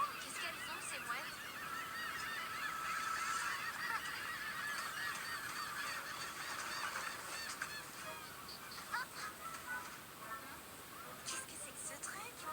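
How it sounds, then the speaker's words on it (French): Seabirds, likely gulls, call repeatedly and noisily at a seaside location, a dense overlapping chorus of honking, squawking cries that continues throughout at close range. "qu'est-ce qu'elles ont, ces mouettes?"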